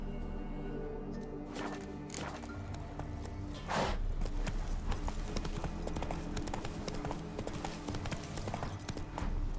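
Hooves of Roach, Geralt's horse in The Witcher 3: Wild Hunt, clip-clop at a walking pace, close and steady over a village ambience, with a brief sharper burst near the four-second mark.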